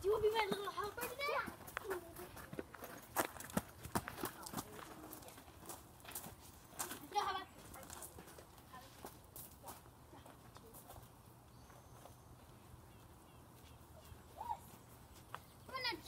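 A horse is led along while its hooves clip-clop intermittently, fairly close but faint, beneath children's chatter, adult talk and birdsong.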